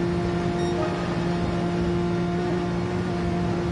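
Porsche race cars roar in a Gran Turismo-style GR3 series video game race, a loud, steady engine drone with a sustained pitch and no break, close up.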